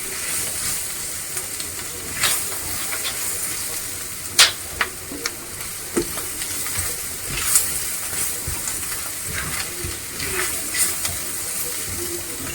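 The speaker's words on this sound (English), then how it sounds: "Keep on stirring." Onions frying in a pan and being stirred, a continuous close sizzle broken by sharp scrapes and clicks of the utensil against the pan.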